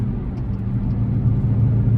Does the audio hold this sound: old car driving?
yes